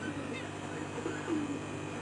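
Caged finches in a pet shop chirp and coo faintly for a couple of seconds over a steady indoor background hum.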